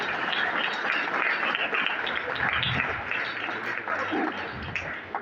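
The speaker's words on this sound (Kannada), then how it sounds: "ಒಂದು ಜೋರಾದ ಚಪ್ಪಾಳೆ" Audience applause fills a school Science Day celebration: many hands clap together in a steady, dense patter that carries on for several seconds at moderate loudness before thinning at the end.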